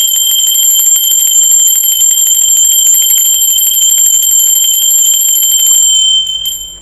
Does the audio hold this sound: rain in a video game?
no